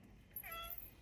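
A cat gives a single short, faint meow partway through, in a quiet indoor home where rescued cats are kept.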